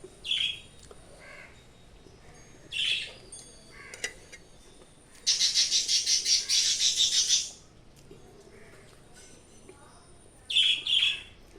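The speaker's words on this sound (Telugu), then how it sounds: "మా బర్డ్స్ చూడండి ఎట్లా అరుస్తున్నాయో." Birds chirp in short bright bursts, a few separate calls spaced apart with one longer stretch of rapid repeated tweeting in the middle, moderately near.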